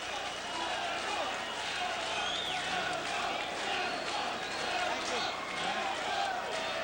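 A boxing arena crowd chants steadily for underdog fighter Elco Garcia in his bout against Vernon Forrest, a dense roar of voices sustained throughout at a fairly distant, even level.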